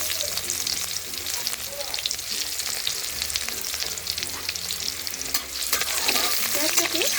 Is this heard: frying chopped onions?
yes